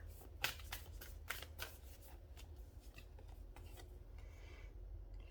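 A Moonology Oracle card deck is shuffled close up in quick riffling bursts and soft rubbing slides, with a few sharper flicks early on and no speech.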